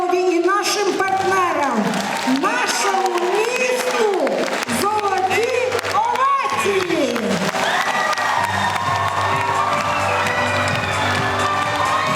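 An audience at a children's and youth palace ceremony gives a loud, sustained ovation: dense cheering, shouts and applause with many overlapping voices throughout.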